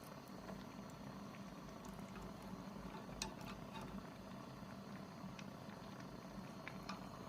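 Beef noodle broth with stewed beef, tendon and beef balls simmers gently on low heat, giving a faint, continuous bubbling and popping close by with no voices.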